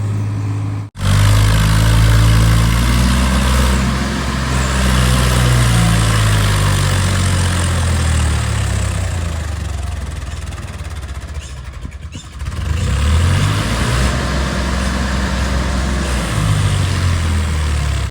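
A Swaraj 855 tractor engine runs in a heavy, low diesel rumble, close and loud. Revs rise and fall in slow waves, with a brief dip near the start and another later on.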